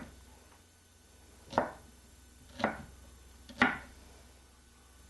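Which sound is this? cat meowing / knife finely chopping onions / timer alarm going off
knife finely chopping onions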